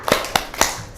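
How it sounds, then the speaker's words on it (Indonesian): A classroom of students does a rhythmic spirit clap, three sharp, evenly spaced bursts of group clapping in quick succession, fairly close. "kita tepuk semangat dulu"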